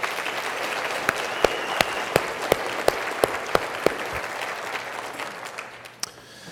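Applause from a luncheon audience at an education conference's opening event, a steady wash of many hands clapping with a few sharper close claps standing out, fading away toward the end.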